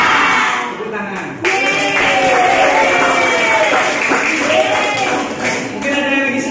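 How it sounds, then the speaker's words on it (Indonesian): A classroom of middle school students claps hands together, a dense burst of clapping mixed with children's voices and chatter, loud and close, continuing under lively talk. "Tepuk tangan."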